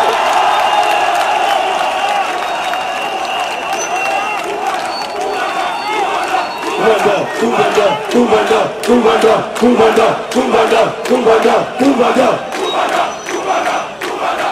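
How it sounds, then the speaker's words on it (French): A crowd at a party political event claps and cheers, starting with a steady murmur of applause and building into loud, rhythmic collective clapping and shouts. "applaudissez bien, applaudissez"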